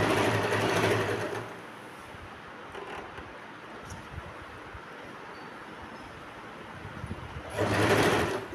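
A sewing machine stitches petticoat panels together in short bursts, running loudly at the start, pausing through a quieter stretch with faint handling noise, then whirring again near the end; no one speaks.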